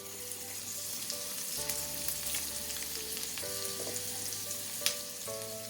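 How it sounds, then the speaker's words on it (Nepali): Chopped asparagus, 300 grams, sizzling steadily in a hot pan for asparagus pickle, a continuous close frying hiss with occasional faint stirring clinks and pops. "र अब मैले यसमा राखेँ 300 ग्राम काटेको कुरिलो"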